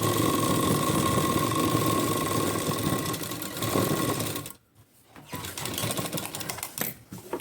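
A sewing machine runs steadily and close up, putting a double stitch on a plain four-tuck blouse, then breaks briefly and resumes in shorter, uneven runs.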